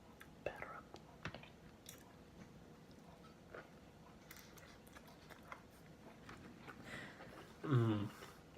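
Chewing sounds come from someone eating Alaskan king crab at a mukbang session. Soft, close mouth noises repeat over the clip and turn louder near the end as a big bite is taken. A faint voice murmurs now and then.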